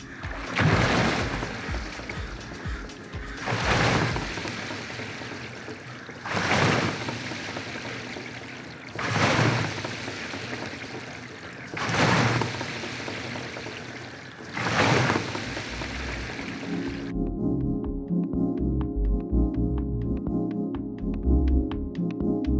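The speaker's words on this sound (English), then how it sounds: "I do want you to hear what you're getting on the water rower Ergatta machine" An Ergatta water rower rowing machine gives five rhythmic strokes, each a surging whoosh of water sloshing through the tank at even intervals, heard up close and alone. A sudden change near the end brings a different low rumbling sound.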